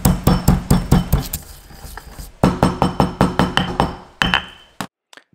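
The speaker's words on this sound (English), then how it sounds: "Grind up some Sichuan peppercorns." Sichuan peppercorns are pounded in a grinder with a steady series of loud, sharp, close knocks in two quick runs, then a few final taps before silence.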